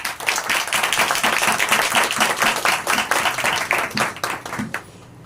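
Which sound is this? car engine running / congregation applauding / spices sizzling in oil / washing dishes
congregation applauding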